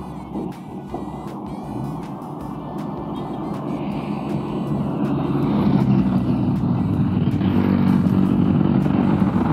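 An NWOW WSP electric scooter on new 100/90/12 and 110/90/12 tires accelerates at full throttle during a speed test, a rising whine and rush of road and wind noise that swells steadily louder, with brief ticking clatter early on.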